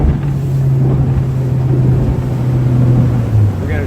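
An 18-foot Jetcraft boat's motor drones steadily at about 5,900 rpm, a continuous loud hum with a strong low tone and some wind rush over it.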